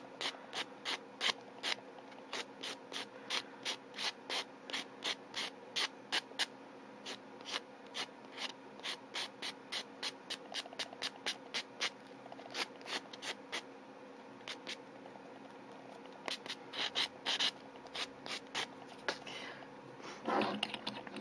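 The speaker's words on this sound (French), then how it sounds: "je lime légèrement la surface de l'ongle" A nail file rasps lightly across a fingernail surface in quick, repeated short strokes, close and soft, with brief pauses between bursts and faint rustling near the end.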